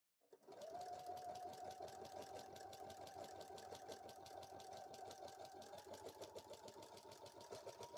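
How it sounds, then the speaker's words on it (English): A sewing machine stitching a cosplay costume runs steadily for several seconds: a close, even mechanical whir with rapid rhythmic needle clatter, starting abruptly and holding at one speed without any talk. "One of the clips was getting stuck underneath the sewing machine."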